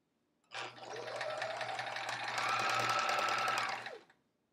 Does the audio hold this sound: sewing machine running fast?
yes